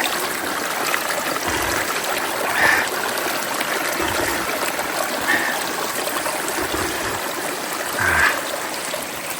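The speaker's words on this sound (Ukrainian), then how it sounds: "От ми прийшли на схилі гори таке джерельце." A small mountain spring trickles steadily down a slope in the Carpathian highlands, a continuous close watery babble with a few slightly louder gurgling swells.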